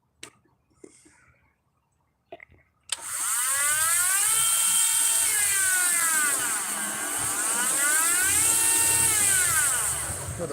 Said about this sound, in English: That's my Dremel.